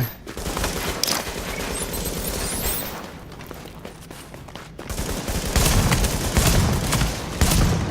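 Sustained gunfire in Tom Clancy's The Division's Dark Zone, with dense bursts of automatic weapons and rapid shots crackling continuously, a brief lull midway, then heavier volleys resuming loud and close.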